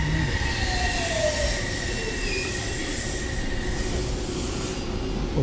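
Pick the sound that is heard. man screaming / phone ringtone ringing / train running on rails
train running on rails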